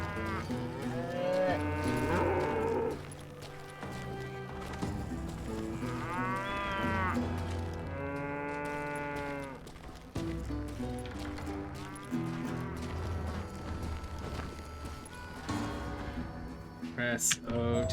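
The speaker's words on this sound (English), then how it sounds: "Moo cows." Cows mooing in the Call of Juarez Gunslinger video game: several long, drawn-out moos rise and fall over continuous game music and ambience.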